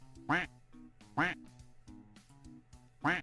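A cartoon-style duck quack sound effect repeating in three loud, evenly spaced nasal quacks over a faint tonal background.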